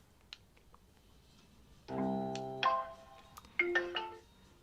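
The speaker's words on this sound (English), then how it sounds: "You get a nice confirmation noise" A Tribit StormBox Micro portable speaker plays its power-on confirmation tone: a short rising series of bright electronic chimes, a sustained tone followed by two quick note clusters, clear against near silence.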